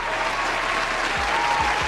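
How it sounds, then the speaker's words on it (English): Continuous applause from a crowd, even and fairly loud throughout, with a few low thumps underneath. "Give him a round of applause."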